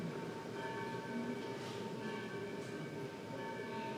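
A bell rings through a steady wash of background sound, its sustained tones sitting faint and constant for several seconds rather than as distinct strikes.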